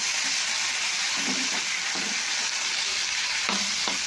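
Spice paste with a pinch of turmeric powder frying in a pan, a dense constant sizzle filling the background with a few soft stirring scrapes rising above it, close up.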